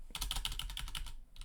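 Rapid keystrokes clack on a computer keyboard in a quick, even run of about a dozen close, crisp taps, then a short pause and one more press.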